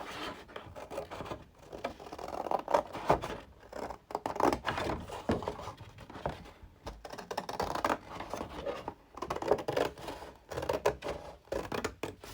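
Paper or card stock being cut by hand while a journal is assembled: continuous close scratchy snipping and rubbing strokes that come in bursts with short pauses over about twelve seconds, with no talk.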